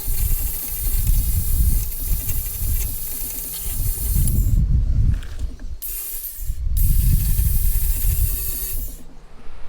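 An angle grinder cuts down the metal lower radiator support piece on a rear-mount radiator setup for a 1JZ/2JZ engine, grinding loud and continuous with two short pauses.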